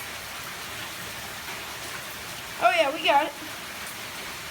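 Heavy rain pours steadily in Texas, a dense continuous hiss of drops on surfaces throughout, with a brief burst of speech partway through.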